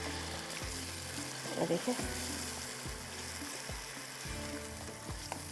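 Saag cooking in a pan as spices are stirred through it, a steady close sizzle with repeated scraping strokes of the spoon, while someone talks briefly over it.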